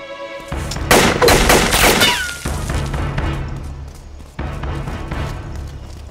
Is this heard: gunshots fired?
yes